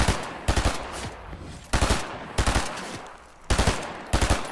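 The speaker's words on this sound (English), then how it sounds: "You got that recoil on that gun." Bursts of gunfire from a gun in the video game Fortnite, several rapid clusters of shots spaced about a second apart, loud and close with a ringing tail between bursts.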